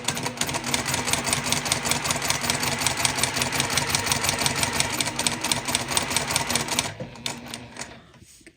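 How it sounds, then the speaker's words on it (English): A sewing machine stitching a fabric seam with glide thread at stitch length 2 runs in a fast, steady mechanical chatter for about seven seconds, then stops abruptly. "I'm stitching at stitch length 2 and I'm using glide thread."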